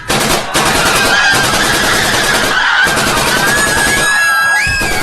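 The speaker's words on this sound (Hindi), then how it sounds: "ताज के स्विमिंग पूल पर पहुंचते ही आफताब और खालिद ने अंधाधुंध फायरिंग शुरू" Loud, continuous automatic rifle fire rattling in rapid bursts during a dramatized terrorist attack at the Taj Hotel poolside, with ringing, whining effects layered over the barrage.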